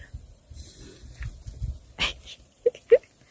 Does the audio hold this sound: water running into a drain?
no